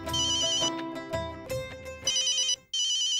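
A phone rings on an outgoing call in a Hindi family TV drama, a loud, repeating electronic ringtone pattern with a short break before it resumes.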